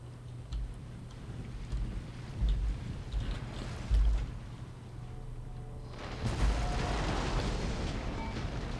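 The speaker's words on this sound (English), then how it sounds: "Cannons are firing, but they are" Cannon fire in the PC strategy game Empire: Total War during a Great Britain campaign battle, a few dull low booms thudding at intervals over a steady rumbling battlefield bed that grows harsher and denser near the end.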